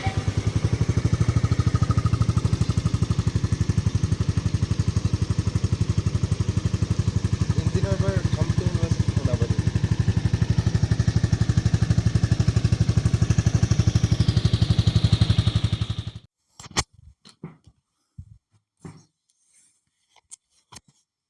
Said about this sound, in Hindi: चलो मैं बाइक का प्योर थंब सुनाता हूँ आपको।